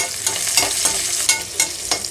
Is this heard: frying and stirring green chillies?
yes